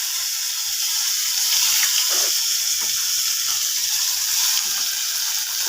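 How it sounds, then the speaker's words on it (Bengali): Cumin seeds, chopped garlic and a little onion fry in oil in a kadai for mocha chingri, giving a continuous hissing sizzle that stays even and near, with faint stirring scrapes and no talk. "জিরেটা ফুটে উঠতে রসুন কুচি আর অল্প পেঁয়াজ কুচি দিয়ে দিলাম"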